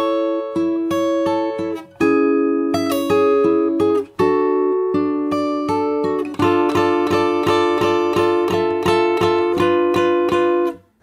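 Fingerstyle acoustic guitar plays the intro slowly, picked melody notes over ringing chords and repeated strums, close and clear with no voices.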